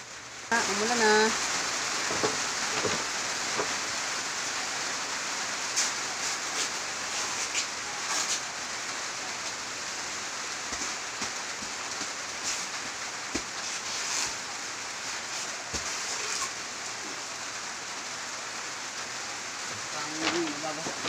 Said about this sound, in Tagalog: Yan na, lumalas ang ulan.